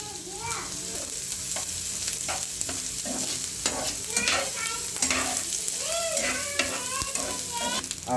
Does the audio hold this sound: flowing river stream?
no